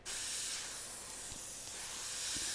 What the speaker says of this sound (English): I am going to spray right up against the template